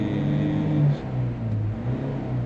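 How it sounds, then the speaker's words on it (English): A Ford 2.2 diesel engine with a DPF fault rumbles steadily close by, its low drone swelling in a rev and then dropping back toward a lower idle, with no voices. "One more big rev, let it idle."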